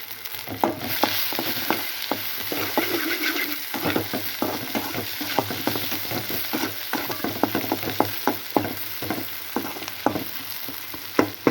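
Onions sautéing for goat brain fry, stirred in a pan with a steady sizzle and a busy run of scraping, clicking utensil strokes throughout, close and fairly loud with no talking.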